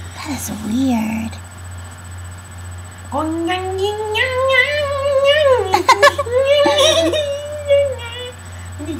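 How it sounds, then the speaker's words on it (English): A cat meows in long, drawn-out wailing cries close by, with breathy softer sounds before the loud yowls begin. "And the cat comes in."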